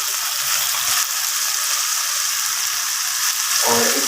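Fried okra being added to masala in a pan, giving a steady, close hiss of hot-oil frying throughout, with a brief stirring scrape near the end.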